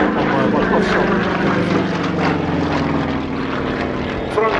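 Sukhoi Su-26MX aerobatic propeller aircraft flying a display at the Volkel airshow in 2015: a continuous, loud droning engine and propeller roar, with someone narrating over it.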